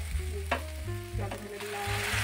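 Boiled potatoes poured into a hot frying pan for a potato chachchari with tomato and black cumin, setting off a loud close hiss that sizzles steadily with brief clatter from the pan.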